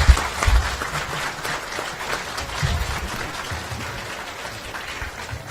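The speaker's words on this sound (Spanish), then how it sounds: "Aplauso para el hermano." An audience at a church debate between an evangelical pastor and a priest breaks into applause, a sharp burst at first that settles into steady, moderately distant clapping and fades gradually, with faint voices beneath.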